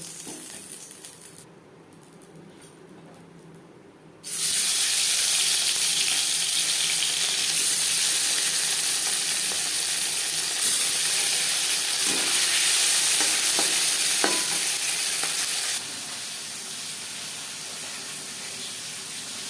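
Bata fish fry in hot oil in a pan, a steady loud sizzle and spatter that starts abruptly after a quieter opening, then drops in level near the end, with no talking.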